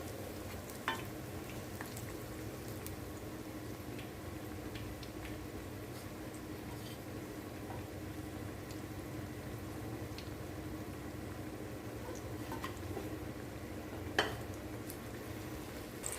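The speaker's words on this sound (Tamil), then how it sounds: "அடுத்த வடையும் போட்டாச்சு அது வேகட்டும்" Medu vada fry in hot oil, a faint, steady bubbling sizzle that runs evenly throughout, with a couple of tiny ticks and no talking.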